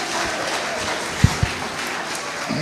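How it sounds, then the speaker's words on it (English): Audience clapping at a Lagos State governorship debate, a steady wash of applause from a crowd, with a couple of louder thumps partway through. "Can we have a round of applause, please"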